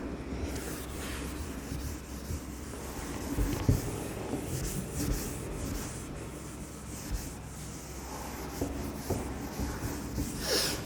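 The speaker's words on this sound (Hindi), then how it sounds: "देखो मैं यहां पे लिखता हूं" Quiet scratching of chalk or marker on a classroom board during a chemistry lesson, soft continuous rubbing strokes with brief louder bumps, no talking.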